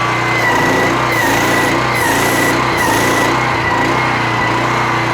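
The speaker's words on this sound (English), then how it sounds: "we'll start the machine and what you find is the machine is hunting" A Qwashers wheelie bin cleaning machine runs loud and steady, its engine drone rising and falling slightly as it hunts and surges, with no talking.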